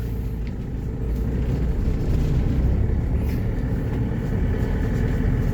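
A 2017 Isuzu Crosswind XL pulls along in second gear through a subdivision loop, its engine giving a steady, rough, agricultural-sounding low rumble at close range throughout, with no talking.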